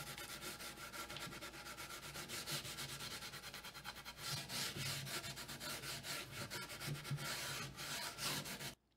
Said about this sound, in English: I just knocked them down with a rough scuff pad